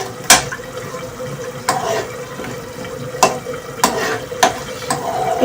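Spinach and potatoes being stirred in a pan with a sizzling tadka of hot oil and green garlic, sharp scraping stirs recurring every second or so over a steady close fry hiss.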